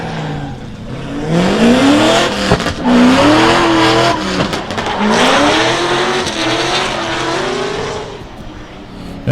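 Drift car attacking a qualifying run at Meremere Drift Park in New Zealand, engine revving hard and wavering up and down with tire squeal and skidding, loud and close throughout.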